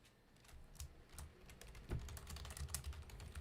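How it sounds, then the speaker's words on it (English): Fingers typing on a computer keyboard, rapid irregular clicks and taps that grow denser and louder, quiet and close, with no voices. "I'm over here typing, so I could not see."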